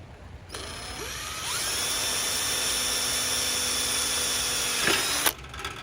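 A power drill bores a hole into a metal fence to mount a Blink camera: a sustained, steady high whine for about five seconds, close and loud, ending abruptly with a brief catch.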